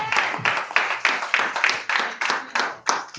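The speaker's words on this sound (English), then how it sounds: "Come on and clap your hands with God some praise." Church congregation clapping hands in a steady rhythm, about ten evenly spaced claps, close and fairly loud with no talk over them.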